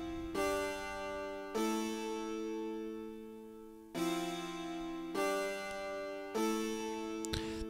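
A slow progression of three sustained chords on a keyboard-like instrument, played once and then repeated, each chord struck cleanly and left ringing with a heavy, mournful, funeral-march feel; no one speaks.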